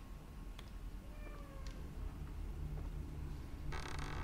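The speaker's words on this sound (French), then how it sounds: "Il me fait peur, ton chat, genre à côté il fait des bruits bizarres" A cat in The Evil Within makes odd, faint meowing calls against a low ambient background, a few brief cries scattered over several seconds, ending with a burst of hissy noise.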